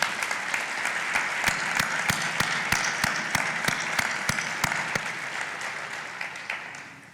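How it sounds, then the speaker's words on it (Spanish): A sustained round of audience applause at a religious proclamation event in Andújar, a dense, even roar of many clapping hands that stays strong for several seconds before easing slightly. "Por eso pido un aplauso para ellos"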